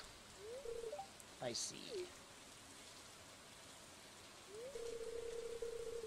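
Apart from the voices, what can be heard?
rain falling in the video game Stardew Valley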